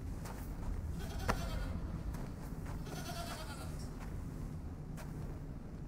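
A goat bleats in a fantasy drama scene, a few wavering cries over a continuous rough background rumble, moderately loud and close with no clear talking.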